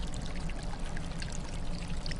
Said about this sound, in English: Them water sounds though.